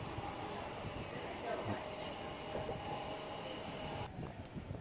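A train arriving at Renigunta railway station, heard from on board as a steady rolling rumble with faint rail clatter, moderately loud throughout.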